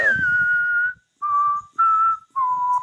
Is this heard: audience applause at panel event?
no